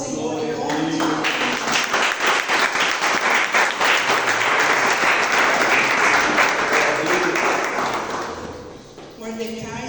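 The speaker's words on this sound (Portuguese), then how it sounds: "aplauda o Senhor em nome de Jesus" A church congregation claps loudly and steadily during a worship service, with voices speaking over it before the applause fades near the end.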